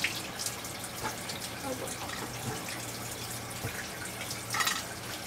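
Water trickles and splashes into the hull of a 1977 boat during installation of a dripless shaft seal, a close, continuous dribbling with brief louder gushes and a few faint voices in the background.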